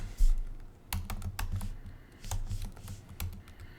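Keys clatter on a computer keyboard in short bursts and single taps, close and fairly quiet, with brief pauses between runs of typing.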